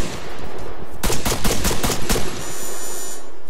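Rapid burst of video game gunfire in a Red Dead team match, about eight sharp shots in quick succession, loud and close against a steady background hum, with no talking.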